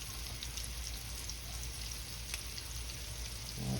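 Crab cakes made with real crab meat fry in a pan, giving a steady, even sizzle and crackle throughout, close and continuous, with a brief low clatter near the end.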